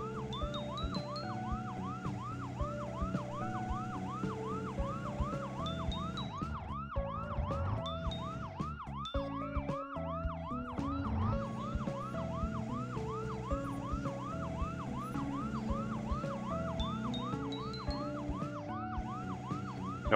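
Looping electronic police car siren from the LEGO Juniors Create & Cruise mobile game, a rapid wailing whoop repeating steadily over cheerful game music and engine noise, fairly quiet throughout.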